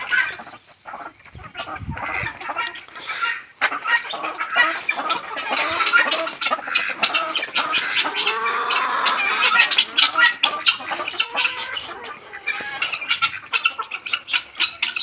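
Bantam chickens cluck and chatter continuously up close in a farmyard, a dense overlapping flock with occasional louder squawks.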